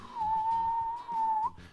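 A BMW N43 engine with a failing crankcase ventilation membrane lets out a steady, high whistle that holds for over a second, dips briefly, then resumes before cutting off, over a low engine rumble.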